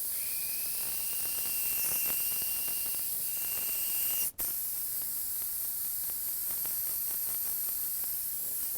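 A spray gun hisses steadily as it lays candy red paint tinted with Carib blue, one long continuous burst with a brief cut near the middle.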